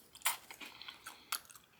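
Crunchy blanched freeze-dried grapes being chewed close up, a few sharp crisp bites and crunches spaced across a short, quiet moment with no talking.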